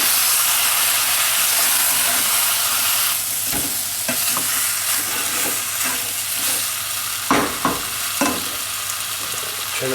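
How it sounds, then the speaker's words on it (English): Beef stirred into fried homemade madras curry paste in a hot pan, a continuous loud sizzle and hiss with several sharp spoon scrapes and knocks toward the end. "We'll give that a good stir around, all that meat coated in that paste."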